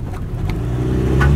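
A loaded milk collection vehicle labours along a rough rural road. Its engine gives a close, low, rising drone that grows louder as it strains, with no talking.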